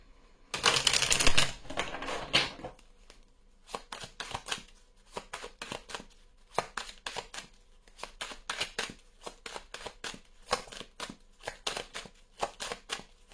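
Oracle cards shuffled by hand for a tarot-style reading: a dense burst of riffling at the start, then a long run of quick, crisp card taps and flicks in uneven rhythm, close and fairly quiet.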